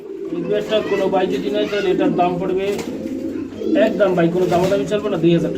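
A pair of yellow pigeons coos in repeated low, throaty rolls, close and fairly loud, with a busy background and what sounds like voices mixed in throughout.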